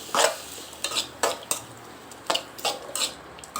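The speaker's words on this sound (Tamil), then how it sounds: "வெங்காயம் வந்து நல்லா வதங்கணும்" Onions sauté with curry leaves in hot oil, a light sizzle broken by irregular scraping and clinking stirs of a spoon against the pan, close up, with no voices.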